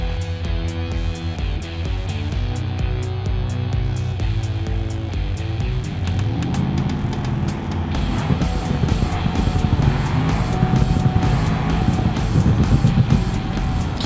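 Race car accelerating hard down a 1/8-mile drag strip in a driving game, the engine note rising steadily through the gears as it builds speed, loud and continuous with no talk.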